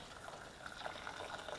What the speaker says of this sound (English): and then just add enough water just to coat